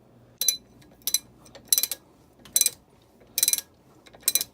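A ratchet threading a nut onto the flywheel of a 1959 Evinrude 10 hp outboard motor, six short bursts of rapid metallic clicking at a steady pace, close and clear.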